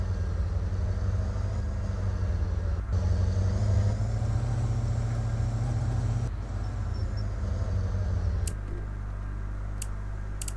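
A car engine in a video game hums and rumbles steadily at close range, dropping to a lower idle near the end with a few sharp clicks.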